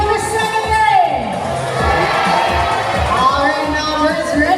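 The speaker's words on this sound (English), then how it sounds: "Now, cheer louder for Azul this time to win." An audience at a bird show at Cebu Ocean Park cheers loudly for team Azul, with a continuous roar of voices, children shouting and whoops filling the whole stretch.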